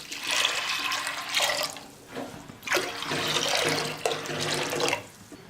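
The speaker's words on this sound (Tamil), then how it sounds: "இப்போ பருப்பு வேகத்துக்கு தேவையான அளவுக்கு தண்ணி ஊற்றிக்கலாம்" Water poured into a pot of lentils for drumstick sambar, a close gushing splash that comes in several bursts with short pauses between them.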